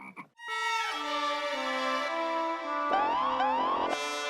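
A comedy-show sound effect of a frog croaking, a loud drawn-out tonal croak with a rising, wobbling pitch that breaks into a couple of warbling swoops before ending on a brighter note.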